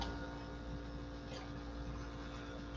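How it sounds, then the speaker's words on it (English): A noisy air conditioner in a craft room runs as a steady, even broadband hum with a low drone, constant and fairly faint throughout with no talk over it. "Oh, that air conditioner is too noisy."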